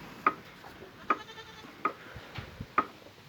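Goats bleating in short, repeated calls, four distinct cries spaced roughly evenly, moderately close against a quiet farmyard background with no talking.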